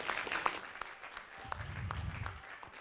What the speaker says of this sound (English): A round of applause once again for Bubble and Darkside.